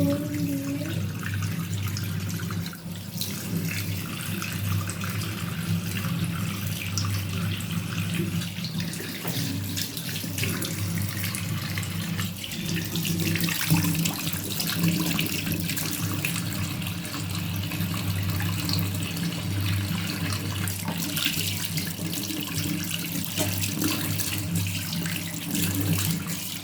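Tap water runs steadily into a sink during face washing, a continuous close splashing rush that holds at an even level throughout with no talking over it.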